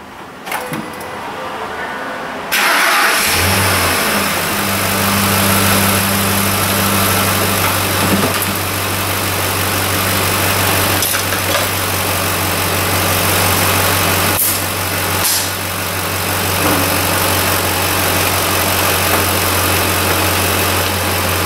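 Ford F-Series 5.4-liter 3-valve V8 cranks and catches after a brief whir, then settles into a steady loud idle that runs evenly for over fifteen seconds, heard up close.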